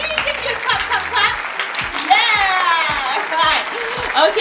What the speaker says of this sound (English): Give you a clap, clap, clap.